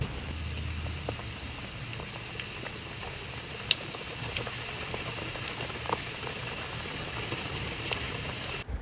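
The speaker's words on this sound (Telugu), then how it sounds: "పక్కన పెట్టుకున్న మిశ్రమాన్ని ఆయిల్లో కొద్ది కొద్దిగా వీడియోలో చూపిస్తున్న విధంగా వేసి హై అండ్ లో ఫ్లేమ్ లో అడ్జస్ట్ చేస్తూ డీప్ ఫ్రై చేసుకోవాలి" Jackfruit pakodi batter deep frying in hot oil, a steady dense bubbling sizzle with faint crackles throughout, continuous and close.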